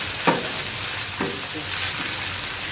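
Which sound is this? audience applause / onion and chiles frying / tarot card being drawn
onion and chiles frying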